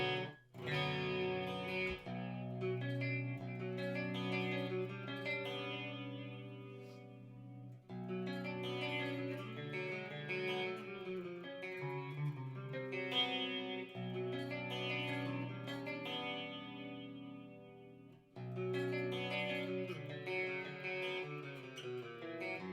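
Electric guitar with two humbuckers on the middle pickup setting, playing sustained chords through effects, several phrases separated by brief breaks, close and fairly loud with no talk.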